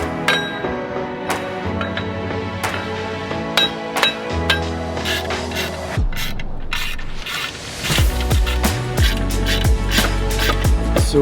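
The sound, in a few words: torque wrench tightening wheel bolts to 63 foot-pounds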